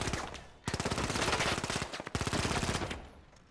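Rapid automatic gunfire in the video game The Finals comes in two long sustained bursts split by a brief gap, loud and close, with a short pause before the first burst.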